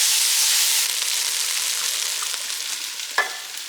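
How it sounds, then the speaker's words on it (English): Garlic and vegetables for a seafood and sausage gumbo sauté in a pot with a loud, dense sizzle that eases slightly, then a single sharp knock of a stirring utensil near the end. "And I'll mix that all with everything else. And we'll saute this for"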